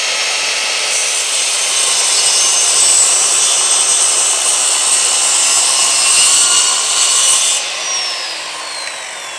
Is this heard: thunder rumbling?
no